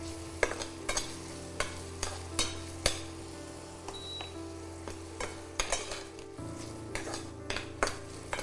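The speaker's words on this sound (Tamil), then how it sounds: "ஒரു 2 நிமிஷம் அளவுக்கு இதே எண்ணெயில் வறுத்துட்டா போதும்." Capsicum sautéing in oil while a spoon clatters rhythmically against the pan, sharp close scrapes and clinks over a steady low hiss and hum, no voices.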